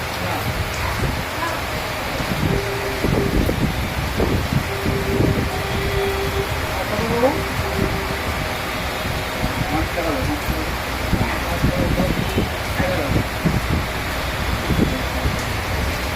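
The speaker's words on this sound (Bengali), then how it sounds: "জোরে বৃষ্টি হচ্ছে" Heavy rain pours in a steady broadband hiss throughout, with a few faint tonal sounds and distant voices underneath.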